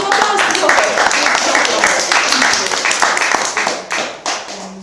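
Applause breaks out for a performer at a music school winter recital, a mix of clapping hands that thins out toward the end, with a voice speaking over it.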